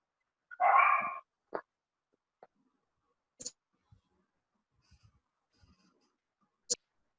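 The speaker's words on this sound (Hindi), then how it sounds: "किसका कुत्ता भौंक रहा है सर?" A dog barks nearby in a quiet indoor space during a physics lesson on electric fields, one loud burst of barking followed by a few short, sparse yips and clicks.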